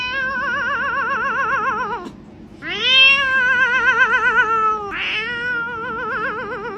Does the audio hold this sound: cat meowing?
yes